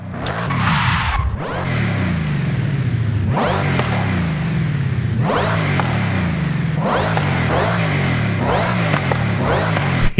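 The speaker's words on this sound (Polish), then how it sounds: "Ja pierdzielę, ten supercharger." A supercharged car in Forza Horizon 5 revs hard in repeated loud bursts with a rising supercharger whine and tire squeal, each surge dropping back before the next, close and without talk.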